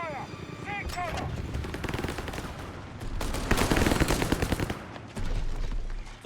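Gunfire in Company of Heroes 3, dense overlapping shots and heavy bursts rolling through a loud battlefield mix, with in-game voices calling out over the din.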